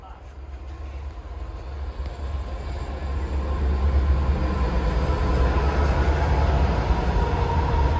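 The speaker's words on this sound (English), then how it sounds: "You like the big freighty trains going through, don't you?" A big freight train going by, a loud continuous rumble and clatter of wagons that swells and stays close, steady for several seconds.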